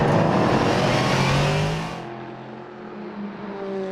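A race car at Spa-Francorchamps roars loudly past at close range during the 4 Hours endurance race, its engine note holding high and then falling away as it leaves, with a fainter engine droning on afterward.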